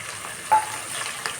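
Green garlic hits hot oil in a tempering for undhiyu, giving a soft, brief sizzle with a faint stir, quiet and alone.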